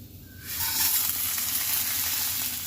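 Ingredients tipped into a hot frying pan, setting off a sudden sizzle that keeps hissing steadily and close by after a brief quiet start.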